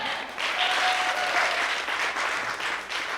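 Applause at a poetry slam after a poet's scores are read, a full, sustained round of clapping from an audience in a room that swells quickly and holds steady, moderately loud and free of talk.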